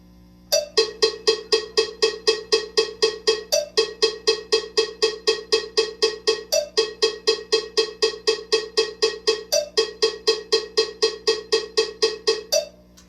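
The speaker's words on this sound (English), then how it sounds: "Triplets for eighth notes sound like this." A bright cowbell-like tone plays a steady eighth-note triplet rhythm, strikes grouped in threes, with a slightly stronger accent recurring every few seconds; loud, dry and alone.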